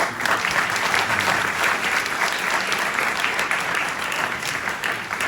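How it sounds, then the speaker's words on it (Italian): Audience members at a book presentation for the novel "Luna di sangue" clap together in a steady, moderately loud applause that continues evenly throughout. "Complimenti, un applauso."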